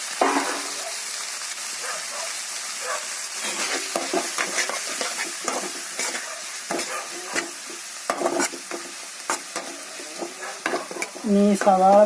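Curry leaves hissing and crackling in hot mustard oil as they are stirred, a steady sizzle broken by sharp scrapes and clinks of the spoon, with a brief squeal near the end.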